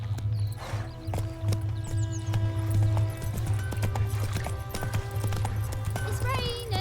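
Rhythmic hoofbeats of a galloping horse in The Witcher 3 drum steadily beneath music and game sounds, loud and close throughout.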